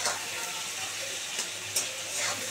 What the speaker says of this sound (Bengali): গাঠি কচু পুরো ভাজা হয়ে গেছে, দেখো কি সুন্দর ভাজা হয়ে গেছে